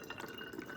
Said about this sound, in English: we're just going to take it and pour it into our spray bottle here